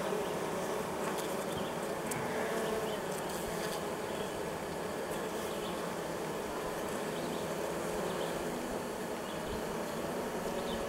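A dense, constant hum of many honey bees buzzing close by in a hive, steady and loud with no pauses and no voices.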